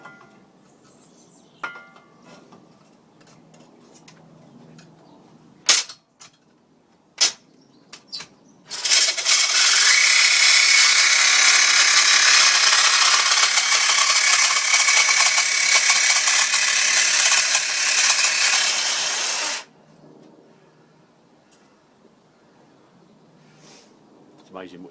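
A DeWalt battery drill boring holes in metal for a homemade stove, one loud sustained whining burst of about eleven seconds, preceded by a few sharp clicks and knocks and followed by quieter handling noise.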